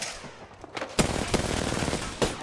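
Gunfire in the video game Apex Legends: a handful of sharp shots crack out in a quick irregular burst, fairly faint and set against a low game background.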